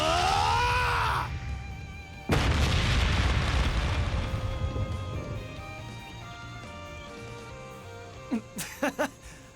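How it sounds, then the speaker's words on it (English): Explosive barrage from the Ungula attack in the video game Trails Beyond the Horizon: a heavy, booming blast erupts and rumbles on before fading, followed by a few short popping bursts near the end, all over game music. "Was that the Ungula barrage?"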